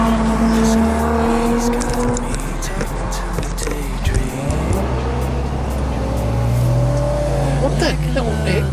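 Cars street racing along a San Diego city road rev hard through the gears, engine notes climbing and dropping loud and close, with voices heard amid the roar.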